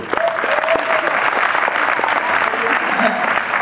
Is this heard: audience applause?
yes